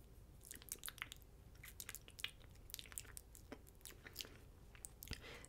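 Soft wet mouth sounds come from licking a Q-tip to moisten it for makeup, close and quiet clicks and smacks that recur irregularly with no talking.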